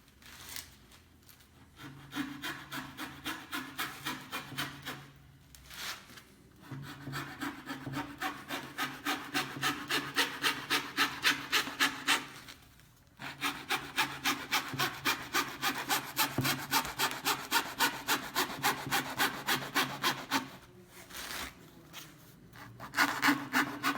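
A fretsaw with a fine 0/0 blade in a Bacco frame cuts wood veneer for marquetry, giving close, rapid, rhythmic rasping strokes in long runs broken by brief pauses.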